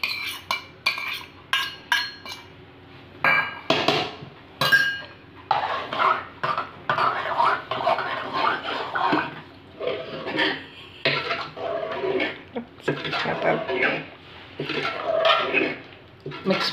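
A spoon scrapes and clinks in a pot as roasted cashews, raisins and coconut are stirred into millet and moong dal payasam, in repeated bursts of clattering strokes, with some talk in between.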